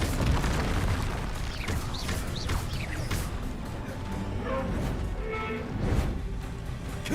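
Bombarda and Confringo spell explosions in the Hogwarts Legacy video game: repeated booming blasts and crashing bursts pile up in a loud, continuous barrage of combat noise.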